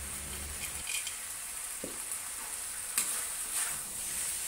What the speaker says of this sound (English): Finish off by stir-frying over high heat for a few seconds and dish out.